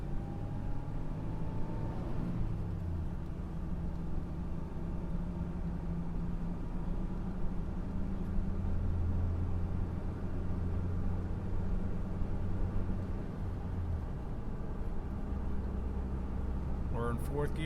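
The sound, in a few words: 1999 Toyota Tacoma 4x4 driving in fourth gear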